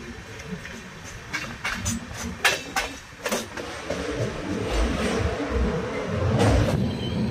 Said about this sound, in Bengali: আমাদের ট্রেন এখন ছত্তিশগড়ের কোনো এক স্টেশনের উপর দিয়ে যাচ্ছে